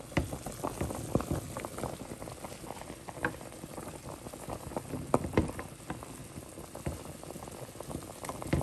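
A pot of beef ribs bubbles at a steady boil on the stove, with small irregular pops and gurgles of liquid, close by and moderately quiet, with no talking.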